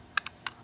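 A small switch clicked over to change magnetic pole, three crisp, close, quiet clicks in under a second against a faint background.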